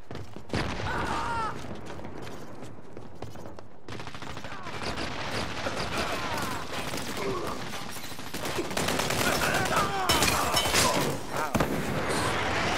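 Dense gunfire and bursts in the first-person shooter Dirty Bomb, with shots and clatter running steadily through the whole stretch and growing louder toward the end; a voice talks intermittently underneath.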